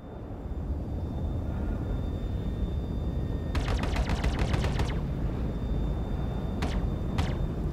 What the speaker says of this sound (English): And you get to shoot all the stupid asteroids.